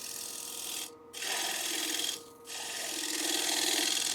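Steady rasping cut of a woodturning lathe tool shaving a spinning wooden bowl at about 1125 RPM, loud and continuous with two brief pauses where the tool lifts off the wood.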